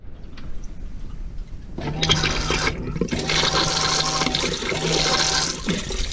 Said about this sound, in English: flush the toilet tank again, to get the water into the pipes and into the pump to clean that as well